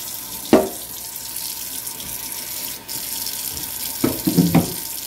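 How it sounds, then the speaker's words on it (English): Garments are rinsed in a sink under a steadily running tap, with near splashes and handling sounds breaking through the flow, and no one speaking. "Okay, so I'll just put my garments in the sink."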